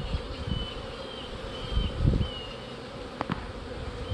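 Honey bees buzzing in a close, continuous drone around a beehive, with individual bees flying past nearby.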